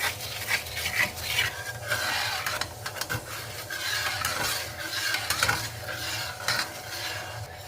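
Butter and sugar syrup stirred in a pan over medium heat, a steady close scraping and swirling with faint sizzle running throughout, no voices.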